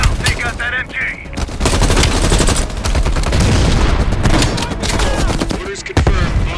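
Sustained machine-gun fire in Call of Duty: Black Ops Cold War, a loud, dense stream of rapid shots mixed with explosions and battle noise, with brief voices in between.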